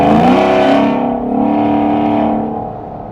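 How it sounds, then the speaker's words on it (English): A Ford F-150 pickup with catted high-flow Y-pipes and a Corsa Extreme exhaust rumbles and roars loudly close by, revving up then settling into a deep, throaty drone that slowly fades. "this F-150 features the SPD catted high flow Y pipes to a Corsa Extreme exhaust"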